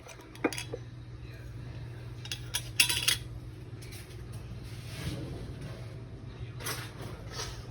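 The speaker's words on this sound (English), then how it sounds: "this is ground up celery. Hear it? That's what you want to hear" Dehydrated ground celery rattling in a container, scattered light clinks and rattles in short bursts over a low steady hum.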